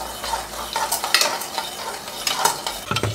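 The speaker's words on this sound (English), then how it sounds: "And then you're gonna mix it all together." A spoon scrapes and swirls around a pot as 3 cups of sugar are stirred into water, giving a rhythmic gritty sloshing with occasional clinks against the metal, close and clear.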